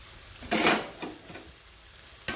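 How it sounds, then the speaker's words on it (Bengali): A lid lifted off a cooking pot of simmering ridge gourd curry gives a sharp metallic clatter and a burst of steam hiss, followed by softer clinks and another brief knock at the end. "এবার ঢাকাটা খুলে দেখা যাক।"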